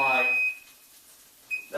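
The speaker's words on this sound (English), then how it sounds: "my timer to tell me it's time to turn this" A cooking timer in a kitchen, set while a protein patty fries in a pan, gives a steady high electronic beep at the start and again near the end, with a voice speaking under it.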